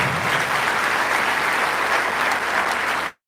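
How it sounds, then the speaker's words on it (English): Sustained applause from a large audience at a university founders' day ceremony, dense and steady throughout before stopping suddenly at the end. "Please do give another round of applause to our great founder."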